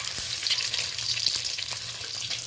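Eggs sizzle in hot oil in a wok, a steady crackling fry with faint stirring clicks, close and continuous for a couple of seconds, with no talking.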